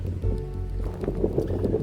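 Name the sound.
wind blowing into the microphone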